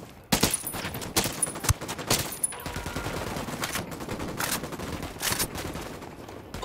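Sniper and rifle gunfire in the video game Ghost Recon Wildlands: sharp, loud cracks, some close together and some spaced apart, over a busy background of distant shooting.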